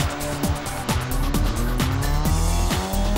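A drifting car skids across a dry surface, tires squealing loudly and continuously over a revving engine, with repeated sharp pitch sweeps as it slides through turns.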